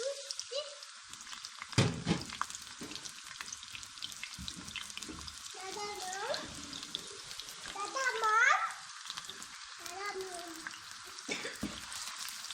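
Chopped onions fry in hot oil for a chicken and moong dal dish, giving a steady soft sizzle with occasional stirring clatter, and a voice talks faintly over it now and then.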